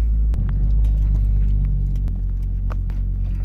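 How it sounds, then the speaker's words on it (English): A Ford Focus XR5 Turbo with a 3-inch custom intake idles with a deep, steady engine rumble. Faint, irregular metallic ticks come from its exhaust sitting close to the subframe. "Now I have like a really bad rattle."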